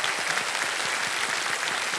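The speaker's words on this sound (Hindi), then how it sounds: "और एक बार फिर जोरदार तालियां योगेश जी के लिए।" Dense, even applause from a studio audience at a television quiz show, a thick, continuous roar of clapping filling the room.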